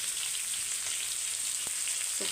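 Fish fries in a pan with a steady, moderately quiet sizzle and crackle, a continuous frying hiss with a few light taps.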